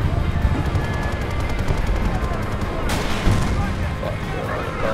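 Rapid automatic gunfire rattles nonstop in an online shooter game, a dense burst of shots with a heavier blast partway through, while a player talks over it.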